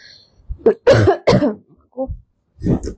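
A few sharp coughs and throat-clearing bursts close by, separated by short pauses, with no talking.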